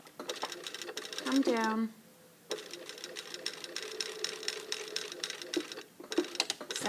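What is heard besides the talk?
sewing machine stitching collar pieces together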